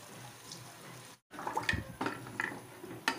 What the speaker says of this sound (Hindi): अब हम इसमें थोड़ा सा पानी,